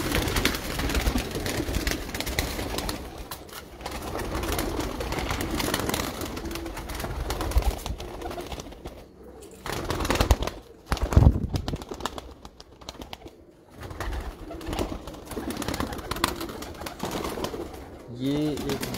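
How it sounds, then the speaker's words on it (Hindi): Teddy pigeons in a cage coo amid a steady rustling background, with the soft calls continuing throughout and a clearer tonal coo near the end. "ये एक बुजुर्ग कबूतर फिर रहा है, ये बुजुर्ग कबूतर।"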